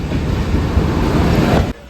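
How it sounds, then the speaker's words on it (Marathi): Train pulling into Mangaon railway station, a loud, continuous rumble of rail wagons with wind buffeting across the microphone, cutting off abruptly near the end. "भावांनो आपली गाडी आलेली आहे"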